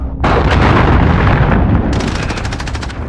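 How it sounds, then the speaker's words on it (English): Missile strike explosion in Call of Duty: Modern Warfare, a loud, close, sustained roaring blast that bursts in suddenly, then gives way to crackling, rattling fire near the end. "Allied missile launched."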